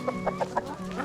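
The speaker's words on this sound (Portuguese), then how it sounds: "Nesse plantel aqui das galinhas mais velhas." A flock of older farm hens in the middle of their molt clucks close by. Short, loud, nasal calls repeat in a quick uneven rhythm, with no voices.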